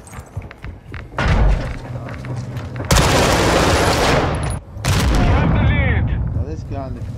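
MP5 submachine gun fire in Call of Duty MW2022 arrives as loud, close bursts of rapid shots with heavy thumps, broken by short pauses, and a voice talks among them.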